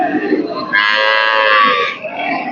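A bull calls out at a crowded cattle market ahead of Eid, one loud, drawn-out moo close by, with low crowd murmur before and after.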